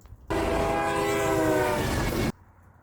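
A loud train horn blasts for about two seconds, a sustained multi-tone blare over rumbling rail noise, then cuts off abruptly.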